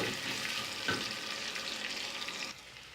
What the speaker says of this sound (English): Fry the onions until they turn light brown in color.